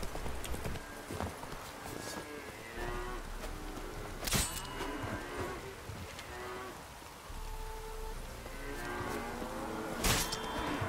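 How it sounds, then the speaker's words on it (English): Dairy cows low in the video game The Witcher 3, drawn-out moos rising from a farmyard soundscape with horse hoofbeats, scattered clicks and steady ambient game noise, no talk. "这么多乳牛"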